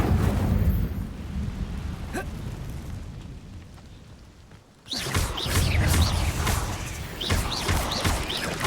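A fire spell cast in Hogwarts Legacy bursts out as a loud roaring whoosh with rumbling low-end blasts, fading into a quieter stretch before a sudden renewed surge of crackling, booming fire and effects.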